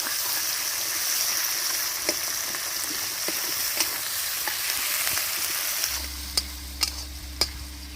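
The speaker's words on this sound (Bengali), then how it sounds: "তেজপাতা কিছুটা গোটা চিড়ে জিরে পেঁয়াজ ভালো করে ভেজে নেব লাল লাল করে" Bay leaves, dried red chillies, cumin and onion frying in a pan give a steady hiss and sizzle, with sharp clicks of stirring that grow louder near the end.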